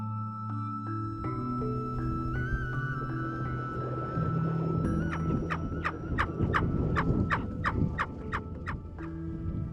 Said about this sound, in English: The Tibetan snowcock, athletic and sleek,